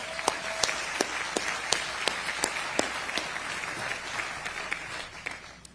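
An outdoor crowd at a Netflix studios groundbreaking ceremony in New Jersey applauds the Eatontown mayor and team, a steady patter of many hands with a few sharper claps standing out, moderately distant and continuing throughout.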